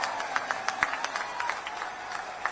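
A political rally crowd claps in scattered, fairly faint bursts to welcome a speaker on stage, the applause uneven and spread out across the stretch.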